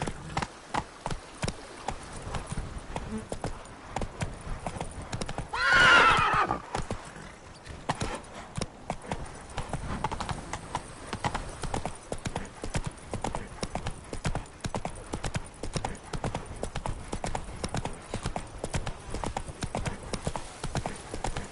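Horse hooves clip-clopping in a fast, steady galloping rhythm while riding in the Witcher 3 video game, with a loud whinny partway through and the pounding continuing close and prominent to the end.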